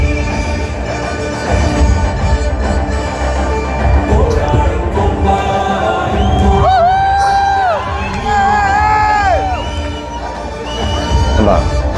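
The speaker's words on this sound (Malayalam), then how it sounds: "ഭയങ്കര കയ്യടിയും ആർപ്പൂലിയും ഭയങ്കരമായിട്ടുള്ള ആരവങ്ങൾ അവിടെ നടക്കുന്നുണ്ട്" A cinema audience cheers and claps at a screening of the Mohanlal film Thudarum, a loud, continuous roar of crowd noise with whoops and shouting rising and falling throughout.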